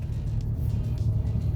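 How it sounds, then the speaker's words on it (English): A Mazda RX-8 idles steadily with its rotary engine running, a low, even rumble close by with a slight pulsing texture and no revving. "as you can hear, the car runs fine"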